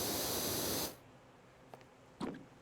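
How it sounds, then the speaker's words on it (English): Continuous broadband hiss of a pressure washer spraying water in a cartoon-themed power-washing video game, loud and steady for just under a second before cutting off, followed by a couple of faint brief clicks and a short knock. "we are spraying an endless amount of water in this game"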